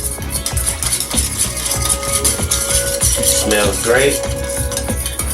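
Sauce poured over steak and rice in a wok and stirred, with a steady scrape and clatter of utensil against the pan and a soft sizzle, while a voice briefly speaks over the cooking.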